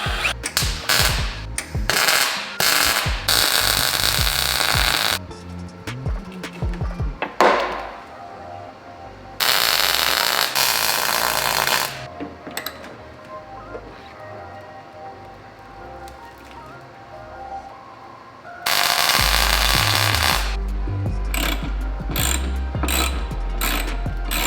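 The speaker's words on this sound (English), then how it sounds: "So I went ahead and got all of the broken bolts out." Loud mechanical ratcheting and metal-on-metal working noises in long bursts, alternating with quieter stretches of clanks and shuffling, close up, while broken bolts are removed from a Mitsubishi Lancer Evolution X.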